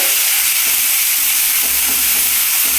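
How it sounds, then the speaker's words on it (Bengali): Boiled spinach fries in oil in a pan for a spinach chutney, giving a loud, continuous close-up sizzle and hiss with faint stirring scrapes underneath. "এই পালং শাকটা আমি কি করছি একটু তেলের মধ্যে ভেজে নিচ্ছি"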